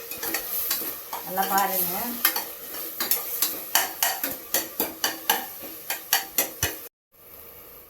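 Chopped tomatoes sauté in a hot pan, a steady sizzle broken by repeated sharp scrapes and clacks of a spoon stirring against the metal, close and fairly loud. A voice speaks briefly near the start, then the stirring continues alone.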